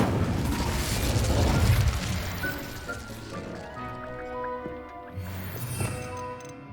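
Spell effects from the Hogwarts Legacy video game, Accio, Incendio and Confringo, cast in a keeper trial: loud fiery bursts and whooshing blasts, then rattling, crackling mechanical effects with ringing tones, all continuous and close.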